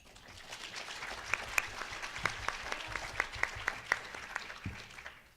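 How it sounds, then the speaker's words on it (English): A conference audience at a youth climate advocacy panel gives a light round of applause: a soft bed of many clapping hands with a few sharper individual claps standing out, moderately quiet throughout. "can we just get one round of applause?"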